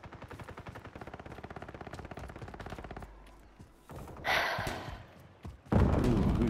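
Video game gunfire: a long, rapid burst of automatic shots rattles steadily for about three seconds, then a few heavier blasts and thuds follow at moderate loudness.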